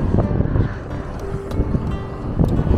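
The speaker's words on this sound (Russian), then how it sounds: "Я посмотрю, как снимает видео в такой сильный ветер." Strong gusts buffet the microphone on a windy shoreline with gulls and a loaded barge, producing a loud, rumbling low roar that rises and falls throughout.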